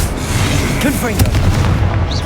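A Confringo blasting spell explodes in the Hogwarts Legacy video game, a dense rumbling boom with burst-like impacts, and a voice is heard over the blast throughout the short span.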